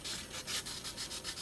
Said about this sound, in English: I'm just going to start out with the 220, and what you want to do is you want to sand all of the